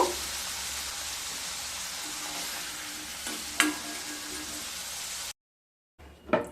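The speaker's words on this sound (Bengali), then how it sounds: "আলুগুলোকে ভালোভাবে ভেজে নিয়ে তারপর ফিরে আসছি" Potatoes frying in hot oil make a steady, close sizzle with a few sharp pops and clatters of stirring before a short break in the sound.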